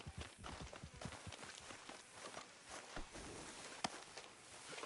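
Horse hooves in Red Dead Redemption 2 clip-clop at a steady walking rhythm, soft and fairly distant, with a single sharper knock partway through.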